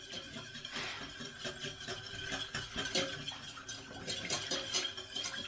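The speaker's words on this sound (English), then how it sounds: "I'm whisking this so the flour doesn't get too lumpy" A whisk stirs flour into gravy in a pot while cooking vegan bangers and mash with miso gravy, giving a steady, close scraping and clinking rhythm that runs continuously without pause.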